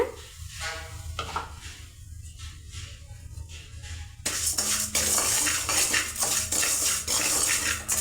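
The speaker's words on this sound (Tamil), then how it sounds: "உப்பு ஜஸ்ட் அந்த ஈரப்பதம் போகிற அளவுக்கு நம்ம வறுத்து எடுத்தால் போதும்" Salt dry-roasting in a pan while being stirred: gritty scraping and light clinking of the utensil against the pan, quiet at first and then a louder, busier stretch of continuous stirring, with no talking.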